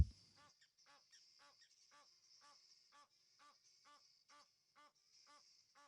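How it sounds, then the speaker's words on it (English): A wild bird calls in a steady series of repeated, evenly spaced honking notes, faint and somewhat distant, after a short thump at the start. "It's a beautiful bird at Rosie's. It's actually been around for the last couple of weeks."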